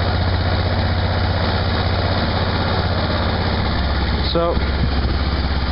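A motorcycle engine idles steadily and loudly at close range, running slightly above normal idle with a constant low rumble; a brief voice is heard near the end.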